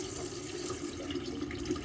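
Water runs from the tap of a Rapido 890F motorhome with the water pump switched on, a steady, close, pressured stream splashing into the sink for a couple of seconds.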